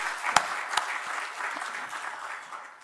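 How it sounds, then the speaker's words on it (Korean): A church congregation claps steadily together in sustained applause, with a couple of sharper claps standing out near the start. "우리 격려와 감사의 박수 한번 드리겠습니다."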